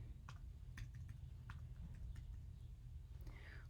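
A phone number is typed on a computer keyboard: a few quiet, irregular key clicks over a low steady background hum, with no talking.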